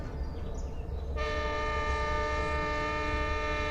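A train passes nearby on railroad tracks, its rumble joined after about a second by a loud sustained horn blast that holds to the end.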